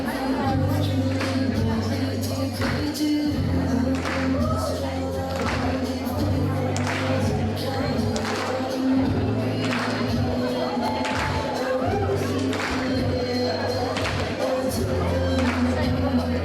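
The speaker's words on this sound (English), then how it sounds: "Watch the crowd participation here." A pro wrestling crowd at Glory Pro Wrestling cheers and claps through a tag team's entrance, a dense, sustained roar with rhythmic clapping and thumps, while an announcer talks over it.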